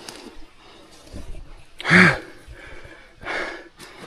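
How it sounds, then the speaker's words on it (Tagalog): Heavy panting from a tired hiker clearing an overgrown path among vegetable farms: a few close, breathy gasps and exhales, one sharper heave in the middle. "Hinihingal na ako ah."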